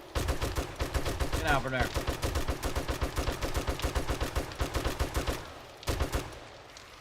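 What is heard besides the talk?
gunshots in the video game 7 Days to Die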